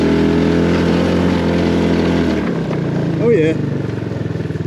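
A HammerHead 250cc go-kart engine runs close and loud with a steady buzzing drone that drops away about halfway through, leaving a rougher, fluttering idle while someone speaks briefly.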